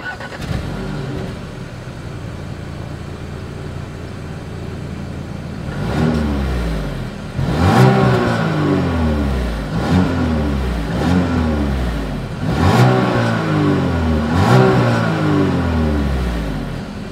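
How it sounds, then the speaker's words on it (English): Exhaust of a 2020 Audi Q5 revved several times while stationary, each blip rising sharply and falling back to a steady idle, with the revs repeating in a regular rhythm, loud and close with no talk. "As always, here is that exhaust clip."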